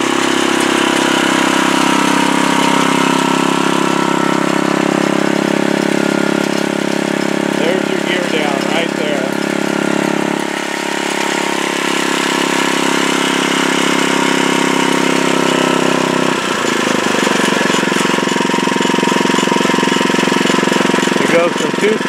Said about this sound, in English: here we have the machine operating with the new jack shaft. You can hear the engine's in a nice power band.